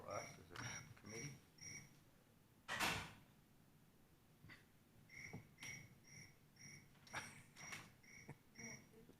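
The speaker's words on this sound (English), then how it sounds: "Where were those crickets coming from?" Crickets chirping faintly during a city budget committee meeting indoors, with short regular bursts of high chirps repeating among quiet room noise and a loud scrape or creak.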